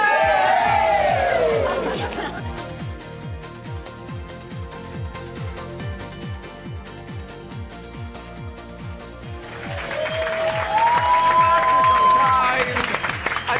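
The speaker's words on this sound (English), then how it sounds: "One more time, we'll give you another round of applause" An audience in France gives a sustained round of applause and cheering for a reunited team. The clapping swells loudly, dips in the middle under a speaking voice, then rises again with whoops at the end.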